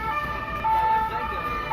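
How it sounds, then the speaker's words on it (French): Wailing emergency siren from a police car pursuing an ambulance on RATP transit lanes, heard steady and fairly loud over road traffic with no break across the short stretch. "La voiture de police suit sirène hurlante"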